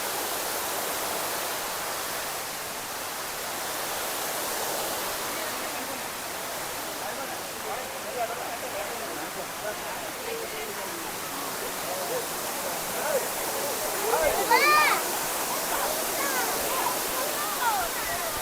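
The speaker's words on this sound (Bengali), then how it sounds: "চলুন আমরা যাই এলিফ্যান্ট ফলস দেখতে, ওয়াটারফল।" Elephant Falls in Meghalaya pours as a steady, dense broadband rush of falling water, constant and fairly loud throughout, with a faint brief sound standing out briefly near the end.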